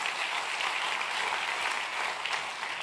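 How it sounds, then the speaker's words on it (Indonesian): Steady applause from a church congregation during a sermon, a dense even wash of clapping that holds at a constant level throughout without pauses or spoken words. "Tepuk tangan buat Tuhan Yesus."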